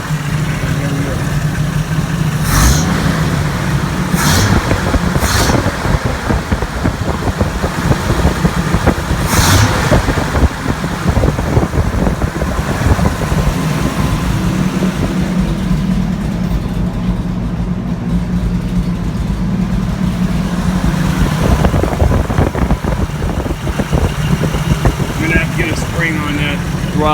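A 1984 Toyota FJ60 engine idles steadily and close by after a manifold swap, a continuous low rumble running throughout with a person talking over it at points.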